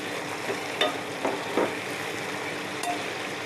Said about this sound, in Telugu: కాస్త వేగాలండి ఉల్లిపాయతో పాటు ఇది కూడా.